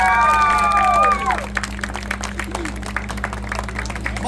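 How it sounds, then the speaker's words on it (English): A circus audience applauds with steady, moderately loud clapping and crowd noise under a tent, following a brief whistling or squealing tone at the start. "Let's hear that round of applause."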